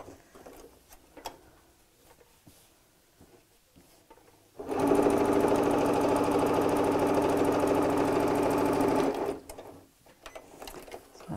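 Sewing machine stitching a gingham tea cosy: after quiet handling noises, a steady, close whirring run of rapid stitching lasts several seconds, then stops and the soft handling sounds return.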